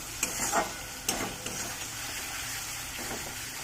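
Spices and chopped tomatoes with turmeric and chilli powder frying in a pan for a chicken curry, a steady close sizzle with a few stirring scrapes early on.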